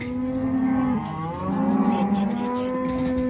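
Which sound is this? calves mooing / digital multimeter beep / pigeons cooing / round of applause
calves mooing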